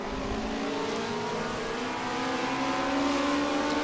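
Race car engines in an F1 1979 game at Kyalami, a loud continuous high-pitched whine rising steadily as cars run close together in an overtake.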